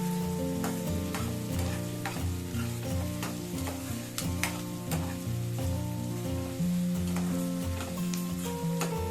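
Onions sautéing in a pan for tomato thokku, a steady crackling sizzle under a continuous tonal background hum with repeated sharp stirring clicks, no talking.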